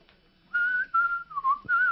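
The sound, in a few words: person whistling the Bridge Over the River Kwai tune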